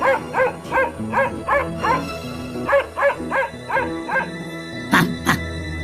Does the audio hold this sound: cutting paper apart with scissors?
no